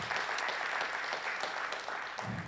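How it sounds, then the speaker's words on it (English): Audience applause at a community development event hosted at the Avalon in Marysville, a dense steady patter of many hands clapping at moderate volume throughout, without talk. "Let's give the Avalon a round of applause for hosting."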